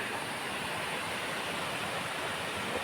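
A small waterfall in the Sirumalai hills pours with a steady, dense hiss and rush that holds evenly throughout, close by and with no voices over it.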